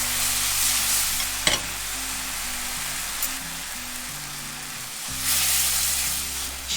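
Red wine hits a hot pan of sizzling beef tongue ragù, giving a loud, close, continuous hiss and crackle with a sharp burst as the liquid goes in, without talk.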